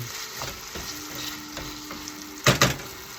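Corned beef fries in a hot pan with potatoes, a steady crackling sizzle with a faint tonal hum, then a couple of louder scraping stirs near the end, no voices.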